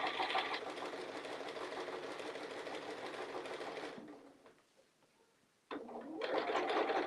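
A sewing machine runs in a fast, steady mechanical whir while stitching backwards, close by, pauses briefly to near silence, then starts stitching again at full speed.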